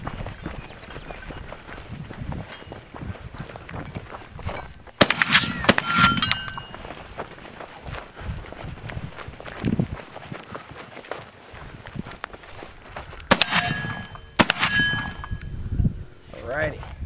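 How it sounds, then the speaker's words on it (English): Benelli M2 shotgun firing Hornady double-aught buckshot at steel plates on a range: two loud blasts about eight seconds apart, each followed by the bright ringing clang of struck steel, over a low outdoor background. "we're running the Benelli M2 with the Hornady double-aught buck"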